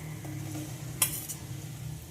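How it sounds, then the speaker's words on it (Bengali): Fried pumpkin and potato go into a pan of cooked spice mixture, giving a low steady sizzle with a sharp metallic clink of a utensil partway through and soft stirring scrapes, with no voices. "এবার এতে ভেজে রাখা কুমড়ো আর আলু দিয়ে দেব।"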